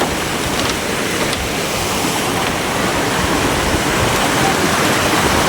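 River water rushes in a loud, unbroken wash where people are playing in the river at Pondok Halimun near Sukabumi.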